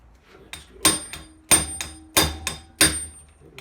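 Five or six sharp metallic hammer blows on an impact screwdriver loosening a Honda CT90 engine fastener ring out at an uneven pace, each a crisp impact on metal with a short ringing decay.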